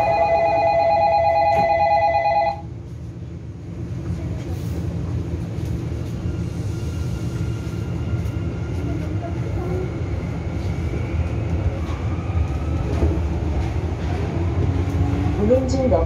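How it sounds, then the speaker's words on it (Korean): Sillim Line light rail train in Seoul: a door-closing chime tone sounds at first, then a steady low rumble and hum as the train pulls away and runs, with wheel squeal building near the end. "열차 곧 출발합니다."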